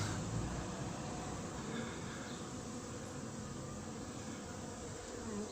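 A swarm of honeybees flying around behind a window shutter gives off a dense, continuous buzzing hum that holds steady and close throughout.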